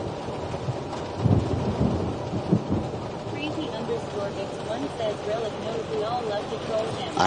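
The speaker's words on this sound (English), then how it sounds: "the thunder sounds awesome" Outdoor rainstorm: a deep roll of thunder rumbles early on over a constant wash of falling rain, with a voice speaking over the storm noise.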